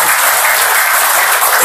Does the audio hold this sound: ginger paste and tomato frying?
no